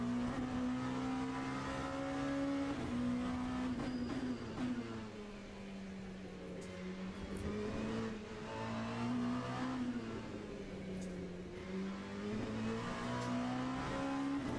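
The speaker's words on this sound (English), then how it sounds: "Really trail brake it in and then punch the throttle down." Hypercar engine in Le Mans Ultimate, loud and steady, rising and falling in pitch as it brakes and accelerates through corners, a continuous close-up drone with no talking over it.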